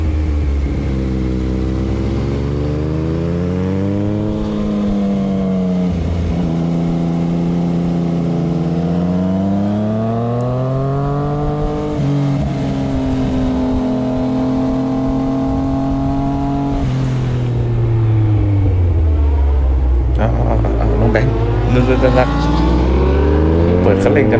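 A Yamaha MT09 rides behind three Honda CBR650F four-cylinder motorcycles on a newly paved road, their loud, close engines rising and falling in pitch through gear changes over steady wind noise.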